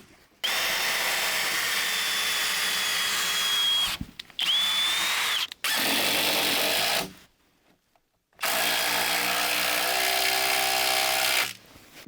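A power drill drives bolts into log cabin framing in several bursts of high whining spin, separated by short pauses, close and loud with no talking.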